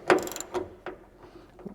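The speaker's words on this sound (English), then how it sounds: "I'll loosen that just a little so I don't lose the threads." Threaded bolt on a car hood being loosened, a few close ratcheting clicks and metallic ticks spaced irregularly, faint overall.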